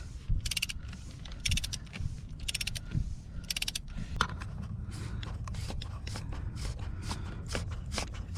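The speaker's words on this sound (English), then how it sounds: "So we use a 27 socket and we open up the filter." Ratchet with a 27 mm socket loosening the oil filter housing on a Mercedes CLA 250, heard as several quick bursts of ratcheting clicks between creaks and handling noises, close up.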